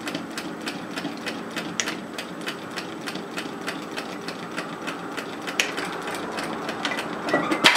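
A sewing machine stitches across the gathered pleats of a beanie, its needle hammering in a fast, even mechanical rhythm close by, briefly speeding up near the end, with no talking.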